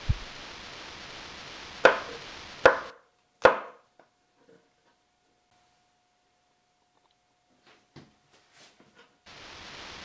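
Knife chopping mushrooms into small pieces on a cutting board, three sharp close thuds in quick succession after a steady background hiss, then near silence with a few faint taps.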